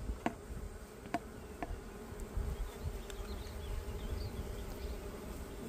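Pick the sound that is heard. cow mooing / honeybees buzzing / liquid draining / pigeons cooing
honeybees buzzing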